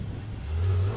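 A twin-turbo Ferrari engine accelerates, a low mid-pitched hum that rises into a stronger revving drone in the second half, close and moderately loud.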